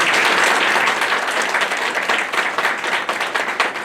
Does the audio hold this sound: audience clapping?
yes